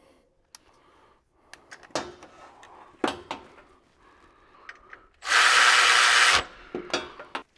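A bolt on a main engine belt tensioner being tightened, with metallic tool clanks and ratcheting scrapes, then a loud second-long burst of a power tool, all close.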